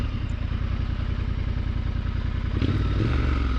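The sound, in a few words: Triumph Scrambler 1200 motorcycle stalling on dirt trail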